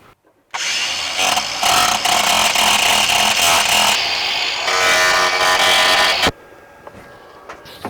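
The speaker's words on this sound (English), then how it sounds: "So grind there, grind there." A power grinder works on the battery tray of a Datsun 280Z, a loud, continuous, close-up grinding whine lasting around six seconds before cutting off abruptly.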